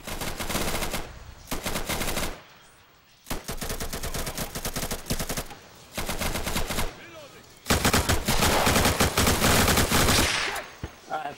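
Rapid automatic gunfire from the video game Insurgency, in several long sustained bursts separated by brief pauses, loud and close, with a voice speaking during the gaps.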